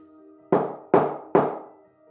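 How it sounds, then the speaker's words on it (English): Three heavy knocks land on a wooden door of a tiny cottage, evenly spaced and close, each a sharp thud with a short ringing decay, alone over a faint low hum. "The knocking rings through their tiny cottage like a war drum"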